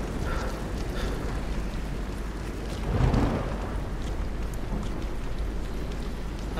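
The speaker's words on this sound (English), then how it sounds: "It's raining." Steady rain in the sci-fi shooter Aliens: Colonial Marines, a continuous broadband wash with a brief louder rumble midway, heard under occasional quiet game sounds.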